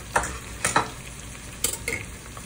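Egg is stirred into vegetables frying in a pan for Chinese vegetable fried rice: a low sizzle is broken by several quick scraping stirs of the spatula, close and fairly quiet.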